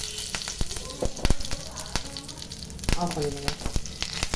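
Mustard seeds and curry leaves crackle and sizzle in hot oil as a tempering for a Tamil chutney, with sharp popping bursts over a steady fry, and someone speaks briefly near the end.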